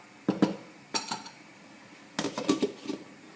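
A metal lid clanks onto a cooking pot of lentil stew, with several short clinks and rattles in three separate bursts at moderate level and close range, with no voices.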